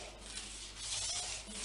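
A razor blade scraping yacht varnish off an oak worktop gives a steady, soft rasping scrape that swells slightly toward the middle, close and alone.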